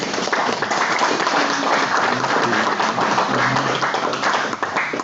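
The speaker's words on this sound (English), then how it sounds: "How about a round of applause for that music" A church congregation applauds continuously during a service, dense clapping filling the room at steady loudness for several seconds, with no voices standing out.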